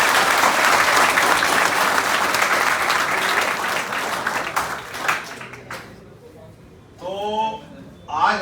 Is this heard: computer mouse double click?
no